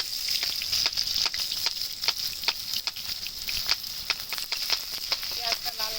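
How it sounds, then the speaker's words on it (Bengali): Sliced onions sizzle steadily in hot oil with cumin seeds, a constant crackling fry with scattered pops and stirring clatters, close and loud throughout. "পেঁয়াজটা লাল লাল করে ভেজে নেব।"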